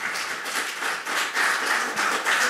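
A crowd applauds at the final gala of a Jaworzno business awards, steady dense clapping from many hands with slight swells in loudness and no voices.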